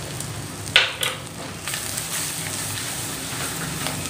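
Rava, grated coconut and rice flour frying in hot oil, a continuous soft sizzle and crackle with a couple of brief louder pops early on and no voices.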